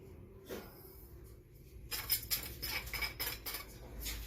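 Carrot halwa with sugar is stirred in a pan with a spoon, sparse scrapes at first, then a busy run of close metallic clinks and scraping strokes against the pan.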